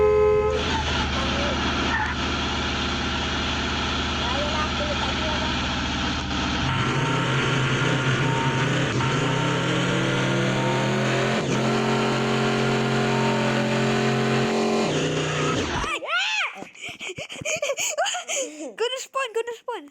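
A car in the video game Chicken Gun drives along with a steady engine drone, and in-game horn toots and music run over it. The engine cuts off abruptly near the end, and voices talk over the game sounds.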